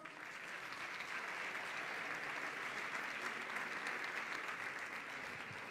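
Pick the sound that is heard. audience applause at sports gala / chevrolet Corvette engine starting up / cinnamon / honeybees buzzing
audience applause at sports gala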